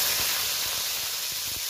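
Curry leaves dropped into hot oil for a spinach potato curry give a loud, steady spitting hiss up close, with faint crackles running through it.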